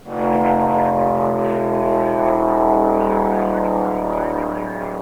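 A race car engine revs up quickly and holds a loud, harmonically rich roar, easing slightly toward the end.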